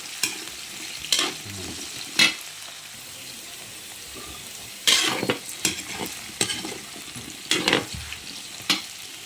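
Potatoes and carrots stirred in a frying pan for chicken curry, with scattered scraping and clattering strokes over a low steady sizzle, louder bursts at irregular intervals.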